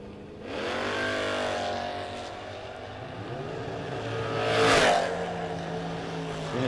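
An El Camino drag racing car at a drag strip launches and roars away, a loud sustained engine note with rising harmonics that swells and builds under crowd ambience.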